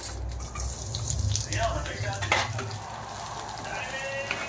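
Washed lentils go into hot oil in a kadai for dal chorchori, giving a close, steady sizzle with scraping stirs and a few drips. Soft voices talk faintly beneath it.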